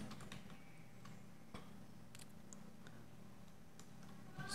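Quiet clicking of keys as code is typed on a computer keyboard, a sparse irregular patter of taps over a faint steady hum, no voice present.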